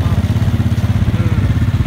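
A motorcycle engine runs close by in a parking area, a loud, steady, pulsing low throb.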